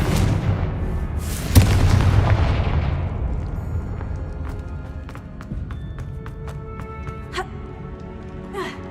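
A Confringo spell blast in Hogwarts Legacy booms loudly at first, then rumbles and decays while scattered sharp magical cracks and impacts follow.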